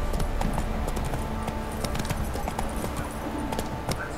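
Roach the horse trotting in The Witcher 3, a steady close clip-clop of hooves running continuously with a faint background hum.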